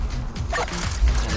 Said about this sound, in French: J'aime bien son aboiement électronique.